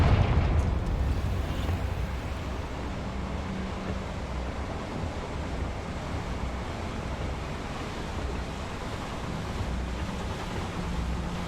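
Confringo blasting spell in the Hogwarts Legacy video game: a broad, rumbling explosive roar that bursts at the start and then settles into a long, steady churning wash of noise, with no talk.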